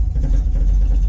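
Modified car with a lopey cam idling cold, a loud, close, deep engine rumble with an uneven loping pulse and no talking over it.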